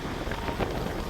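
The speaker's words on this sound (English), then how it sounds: "Sorry about the wind, but it is Saskatchewan" Gusty Saskatchewan prairie wind buffets the microphone, a continuous rough rush with no other clear sounds.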